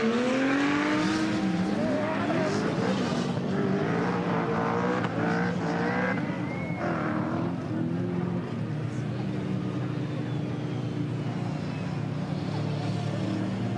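BMW M4 drift cars with over 1000 horsepower scream past at a Nürburgring drift show, high-revving engines rising and shifting up and down with tyre squeal, and a voice talking over them.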